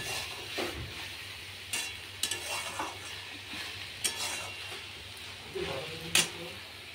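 Leafy greens being stirred and fried in a kadai, soft sizzling with occasional scraping and clinks of the spatula, close and fairly quiet.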